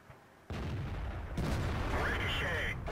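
The Tortoise tank's 120mm gun firing in World of Tanks, a sudden heavy boom that rolls into a loud rumbling blast, then a second surge of roaring noise with a metallic whine.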